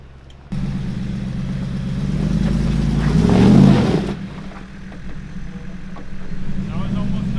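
Lexus GX470 off-road rig engine revving as it climbs steep rocks, a steady mid-pitched drone swelling to a louder rev burst midway, with faint talk and clatter.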